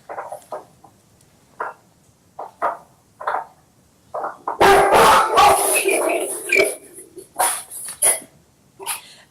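Several dogs barking over an open microphone during a county water district meeting, sharp yips and barks mixed in a loud cluster, with scattered quieter barks before and after.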